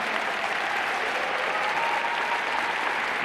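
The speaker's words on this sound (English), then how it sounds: "Can you please give her a round of applause as well?" Steady applause from an audience at a law school commencement ceremony, a dense, even wash of clapping that holds at the same level throughout, with no voices over it.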